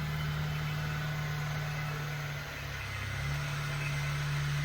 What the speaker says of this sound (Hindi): ये निकली कार अपने गैराज से।